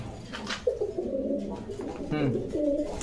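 Pigeons coo in low, rolling, repeated calls close by during a sale of the birds, with people talking over them.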